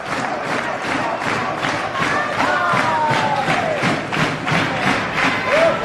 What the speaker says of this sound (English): Crowd encouraging these two men to keep fighting